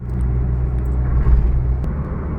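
A repaired Chevrolet car engine runs steadily with a deep, loud low rumble, a constant close idle drone with no talking over it.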